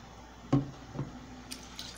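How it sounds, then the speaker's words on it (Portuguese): Water is poured into a pan of passion fruit and sugar for a syrup, giving a quiet, brief splash followed by a few faint drips and trickles in a calm kitchen. "Vamos colocar aqui a metade da água."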